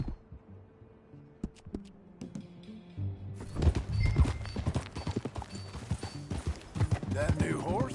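Rhythmic horse hoofbeats clip-clop steadily under spoken dialogue in the video game Red Dead Redemption 2, joined partway through by a fuller backdrop of sound.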